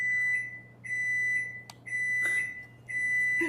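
A home fire alarm sounds a loud, steady electronic beep in repeated long pulses, close by, with no voices.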